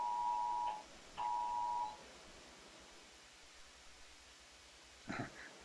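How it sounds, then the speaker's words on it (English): A phone emergency alert for a flood or amber alert sounds as two loud, steady tones of about a second each with a short gap between them. Near silence follows, then a brief clatter near the end. "That's the noise my phone makes when there's like a flood. There's an amber alert."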